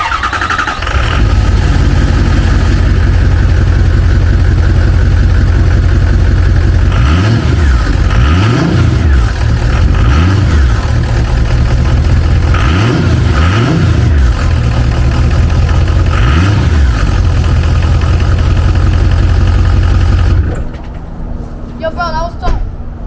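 A 22-year-old 6.0 diesel engine with a blown turbo runs loud and close, a heavy steady rumble with repeated revving swells in a rhythmic pattern, then cuts to a quieter idle at the end.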